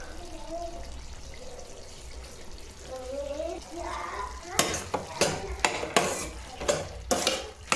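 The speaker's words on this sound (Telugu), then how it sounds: "సాల్ట్ యాడ్ చేసిన తర్వాత తిప్పుకోండి" Cucumber and tomato curry being stirred in a pan after salt goes in, a soft scraping sizzle that turns into several sharp spoon clacks against the pot, with someone speaking over the first part.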